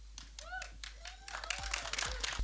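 Audience clapping at a TV series launch event starts sparse and soft, then builds into a denser round of applause, with voices audible underneath.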